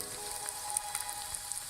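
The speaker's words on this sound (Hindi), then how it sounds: "ऐसे खुला फ्राई करना है।" Chicken frying uncovered in an open pan, a soft steady sizzle with small crackling pops scattered throughout, fairly quiet and close, no talking.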